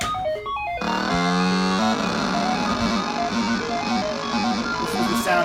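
A Triadex Muse algorithmic synthesizer plays loud, stepping electronic tone sequences that shift into a dense, continuous wash of buzzy notes, with no talking.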